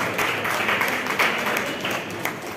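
An audience at a Telugu verse drama performance of Sri Krishna Rayabaram claps in a steady, dense wash of applause that stays loud throughout.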